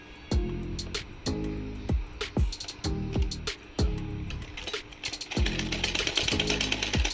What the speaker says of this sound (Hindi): और फिर से हम इसकी सिलाई करेंगे यहाँ से।